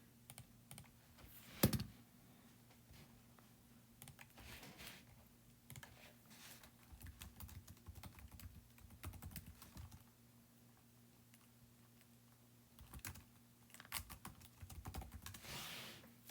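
Soft clicking of a computer keyboard in the background, typing in short bursts and scattered taps with quiet pauses, one sharper knock near the start, all faint and distant.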